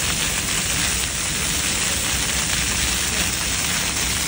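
A fountain splashes continuously in a colonial-style plaza in Mexico City, a steady broadband hiss of falling water heard up close without breaks.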